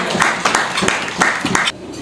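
An audience at a dialysis complex event in Gujranwala applauds Shah Sahib, producing a dense, steady wash of clapping with a few sharper bursts, fairly loud and close throughout.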